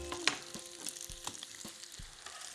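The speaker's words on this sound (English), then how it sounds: "I'm going to add the pasta. We're going to mix that right through." Tongs mixing fettuccine through streaky bacon in a pan in a caravan, a soft sizzle with scattered clicks and metal taps as the pasta is tossed, close and fairly quiet.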